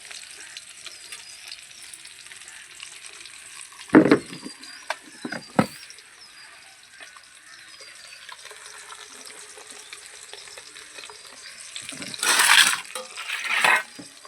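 Lailontika fish fry in oil on a stove on a windy rooftop: a soft, steady sizzle runs throughout, broken by a few sharp bursts of spatter and clatter near the start and a louder spluttering swell toward the end.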